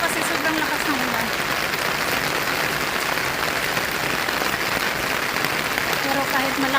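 Heavy rain pours down in a dense, steady roar with no breaks, loud and close, while someone doing laundry outdoors is caught in the downpour.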